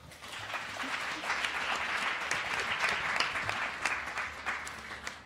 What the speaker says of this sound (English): if you could please give a round of applause for our fantastic panel